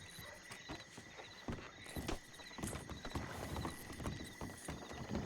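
Horse hooves clip-clop steadily at close range in a role-play video game, with brief whinnies and a constant chirp of crickets in the background.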